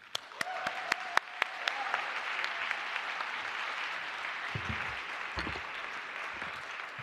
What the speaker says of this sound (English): I would like a roaring round of applause for Thomas Ristenpaart